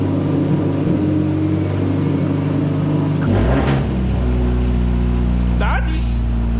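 Toyota Celica engine with a sticking throttle holding a steady, close rumbling drone, then a brief rev surge midway that settles back to a high hang.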